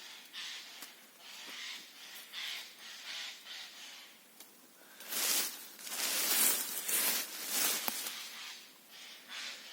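Harsh, raspy Eurasian jay screeches come in several bursts in a Ukrainian forest, fairly faint and distant, with the loudest calls clustered partway through.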